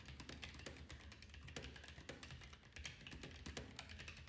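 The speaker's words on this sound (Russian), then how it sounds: "А теперь давайте проведем тест клавиатуры." A Keychron K3 Pro keyboard with red switches is put through a typing test, with quick, irregular clicks and taps at a fairly quiet level and no talking.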